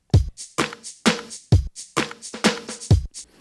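A programmed drum beat in 3/4 time, one kick and two snares per bar with a few extra filler snares, played with the rest of the drums: punchy low kicks and bright snare hits repeat in a steady loop, loud and alone.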